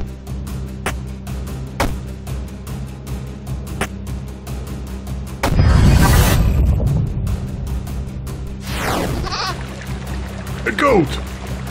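A goat in the video game There is No Game gives a few loud bleats midway, over steady background music and ticking game sounds.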